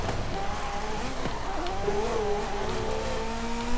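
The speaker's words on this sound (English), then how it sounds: "Yeah, the car that's really sliding," A Ferrari F40 slides sideways through a drift in Forza Horizon 5, its engine droning steadily while the tires squeal in long, wavering screeches, loud and continuous throughout.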